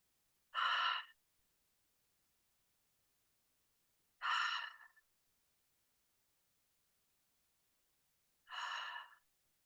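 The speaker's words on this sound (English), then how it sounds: "just take 3 deep breaths in through the nose, out through the nose, or in through the nose, out through the mouth" Three slow, deep breaths drawn in through the nose and released through the mouth, each a soft airy exhale about half a second long, spaced several seconds apart in a quiet room with no talking.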